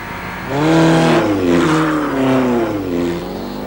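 A Formula Ford race car with a mildly tuned road engine revs close and loud, its harsh buzzing note climbing, dipping and climbing again through a few short swells.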